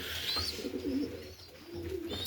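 Racing pigeons cooing in a breeding loft, a few soft throaty coos close by over a light airy background.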